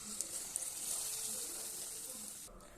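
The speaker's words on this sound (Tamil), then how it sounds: "இப்போது ஒரு பாலாக எடுத்து நம்ம இப்படி சேர்த்து எண்ணெயில் போட்டு பொரிக்கலாம்." Sweet potato suiyam balls frying in hot oil give a steady, soft sizzle and crackle throughout, fairly faint and close, with no talk.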